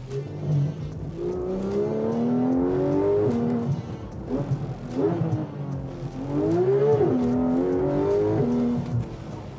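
Motor engine revving close by, rising and falling in repeated sweeps over several seconds, loud and continuous with a throaty, rumbling tone.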